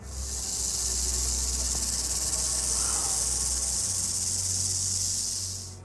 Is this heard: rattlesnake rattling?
yes